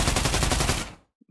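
Rapid automatic gunfire from a weapon in the VR shooter Pavlov Shack Beta, a dense loud burst of closely spaced shots lasting under a second, then cutting off into near silence with a faint trailing bump.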